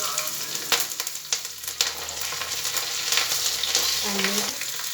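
Onions frying in a pan with ginger garlic paste and green chili, a steady close sizzle and crackle with occasional stirring scrapes, running continuously without talk.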